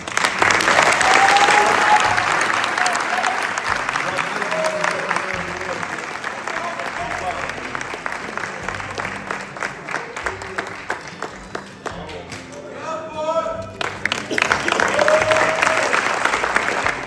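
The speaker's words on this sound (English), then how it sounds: "give me a round of applause and just congratulate Mr. Porter Branham" Audience at a high school football banquet applauds for a long stretch, clapping loud at first then thinning, with voices and cheers heard over it and a brief dip midway before swelling again.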